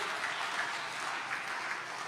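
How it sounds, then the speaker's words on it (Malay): An audience applauds a panel of four speakers at a literary and cultural leadership forum: steady, dense clapping of a crowd throughout, moderately loud, with no talk over it. "kita beri satu tepukan yang gemuruh untuk keempat-empat pembicara kita pada hari ini"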